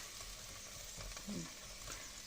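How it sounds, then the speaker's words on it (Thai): Isan sausages crackle and sizzle steadily inside an air fryer, a soft continuous frying hiss with a faint low bubbling burst midway, heard close with no talking. "ใส่กรอกในหม้อไร้น้ำมันรวดเร็วทันใจมากเลยจ้ะ"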